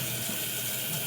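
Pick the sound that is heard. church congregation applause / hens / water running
water running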